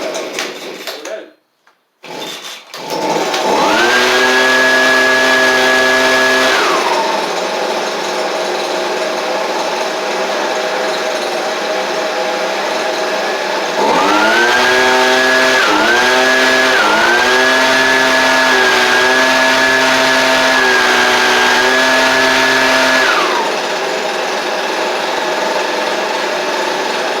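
A Stihl backpack leaf blower, fitted with a new Hipa carburetor kit, starts on choke and runs with a loud, high two-stroke whine, revving up and down in two long bursts separated by a lower steady idle.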